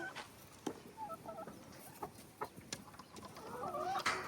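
Hens on a small farm cluck in short, scattered bursts, with a few louder calls close by and quieter ones over a steady background hiss.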